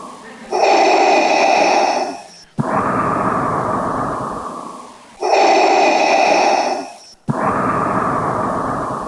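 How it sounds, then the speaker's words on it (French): Loud, close breathing added to a played recording, two long echoing inhales each followed by a drawn-out exhale, alternating slowly and heard alone. "cette respiration que j'ai demandé que l'on rajoute"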